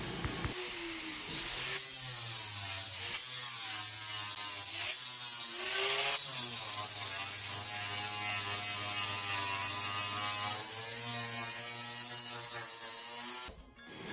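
An angle grinder works over welded-up trim holes on a car roof, a steady high-pitched whine running loud and continuous nearly throughout, with brief shifts in pitch as it bears into the metal before cutting off at the end.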